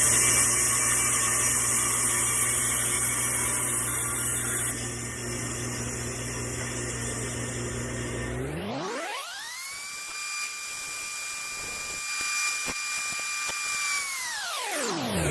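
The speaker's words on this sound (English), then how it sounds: "we'll be doing that on a bandsaw" Bandsaw cutting out a wooden headpiece routing template, a steady loud whine and hum with a rising pitch sweep as the blade runs and the motor winds up and settles, no voices.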